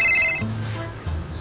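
A phone ringtone for an incoming call plays briefly as a bright electronic melody. A couple of short tonal bursts follow, with no voices.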